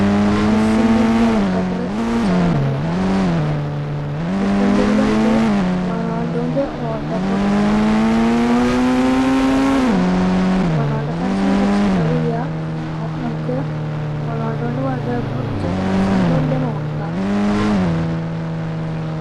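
A Defender SUV in the Indian Bike Driving 3D mobile game revs loudly and steadily, its engine pitch rising and falling in repeated swells across the clip, with a voice speaking over it.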